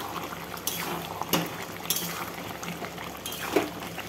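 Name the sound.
mutton boiling in its own released water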